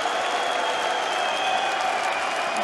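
A home crowd cheers and applauds at a PDC European Tour darts match in Riesa, a dense, steady wash of clapping and shouting that fills the arena throughout.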